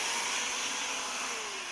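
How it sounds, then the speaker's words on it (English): A vacuum cleaner runs in a car near the cabin air filter area with a steady, faint airy roar and hiss, brief and continuous, with no talking. "You want to vacuum all the area out here because the air filters on the cabin in cabin air filters here."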